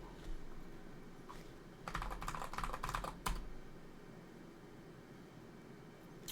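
Keys clatter on a computer keyboard as a short command is typed, a quick faint burst of keystrokes in the middle over a low steady hiss, with no voices.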